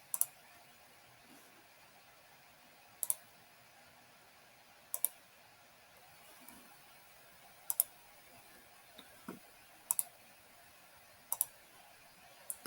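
Computer mouse clicks while working in AutoCAD, sharp isolated clicks, some in quick pairs, spaced every couple of seconds over a quiet room background.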